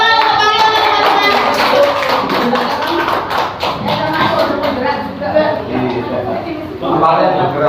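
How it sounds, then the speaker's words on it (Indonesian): A classroom group claps for a teacher at a school workshop, quick close taps of many hands in an uneven rhythm, steady and fairly loud, with talking over parts of it. "Tepuk tangan untuk Pak Riono teman-teman."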